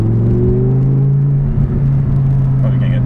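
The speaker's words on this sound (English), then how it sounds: "you kind of just hear the motor when you're in here. It sounds really, really good. I'm just kind of getting on the throttle." Deep rumble of an Audi R8 V10 with a Fabspeed Valvetronic exhaust, flaps closed, heard from inside the cabin under light throttle: a smooth, steady drone that rises slightly in pitch.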